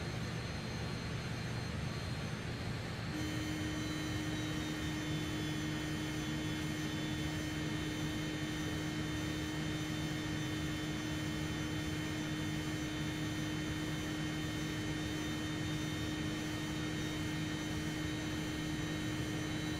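Jet engines of a Fokker F28 airliner in flight in Microsoft Flight Simulator 2020: a steady, unbroken roar with a high whine layered on top, and a further tone joining after a few seconds, continuing at an even level.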